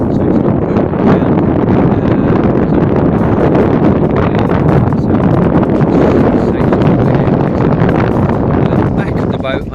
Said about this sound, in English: I bet you can't hear me because the wind is so bad